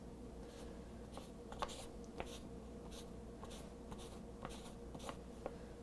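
Fisher Space Pen scratching across paper during a smear test, a steady soft scraping with a few sharper taps of the tip, close and quiet, with no talking.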